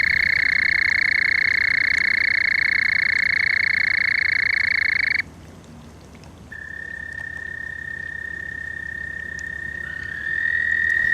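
Toads trill in a spring vernal pool ringed by skunk cabbage and marsh marigold, loud sustained high trills from nearby, one long call cutting off and then a second, softer overlapping chorus starting up.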